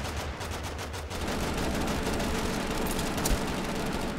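Gunfire rattles in the battle royale game Totally Accurate Battlegrounds, in rapid bursts of shots over a dense, continuous game din. It sounds loud and close, with no clear speech.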